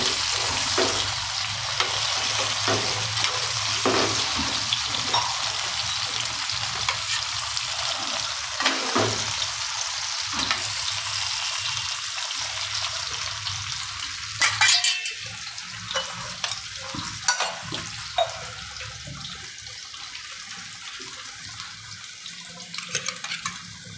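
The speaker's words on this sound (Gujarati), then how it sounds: "હવે એને થોડુંક હલકી મિક્સ કરવાનું આવી રીતના" Stuffed drumstick curry is gently stirred in a pan over a steady low sizzle, with soft scraping and a few sharper clinks of the spoon against the pan later on. No one speaks.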